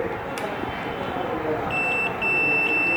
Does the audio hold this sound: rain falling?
no